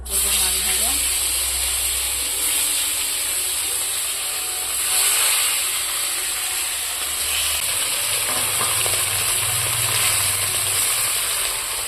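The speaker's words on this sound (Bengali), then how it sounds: "এক পর্ব দেখো মাছ ভাজা হচ্ছে" Pieces of bata fish fry in a pan, producing a continuous, fairly loud sizzle and hiss that holds steady throughout.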